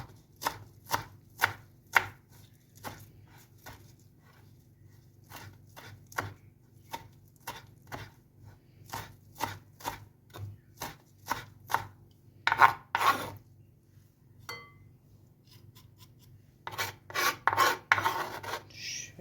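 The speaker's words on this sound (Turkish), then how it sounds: "Maydanozumuzu da ince ince doğrayalım." A knife finely chops parsley on a cutting board in a series of crisp taps, steady at first, then speeding up into a rapid burst near the end.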